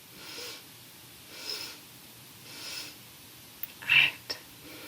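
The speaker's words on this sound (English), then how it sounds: "Little sniffs again." Three soft nasal sniffs of breath in a yoga breathing exercise, spaced about a second apart and close to the ear, then a sharper, louder snort-like inhale near the end in a quiet room.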